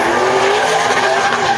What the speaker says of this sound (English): as Doug Vandenbrink is ripping through the corner.